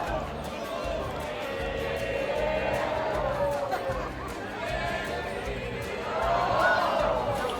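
Crowd noise fills a busy Seattle fish market during fish tossing, a steady hubbub of chatter and shouting voices, with louder calls and swells rising over the babble.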